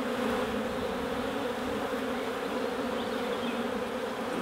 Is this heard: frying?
no